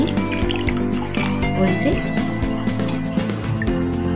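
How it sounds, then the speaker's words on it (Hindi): Whey water drains from fresh paneer through a cotton cloth in a home kitchen, a steady close splashing trickle running under a speaking voice. "सारा पानी हम इसे निकाल देंगे"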